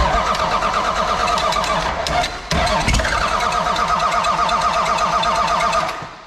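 A Cummins diesel in a 1979 Ford truck with loose injector lines cranks with a rapid, rhythmic churn, then catches and settles into a loud, clattering idle before cutting out near the end.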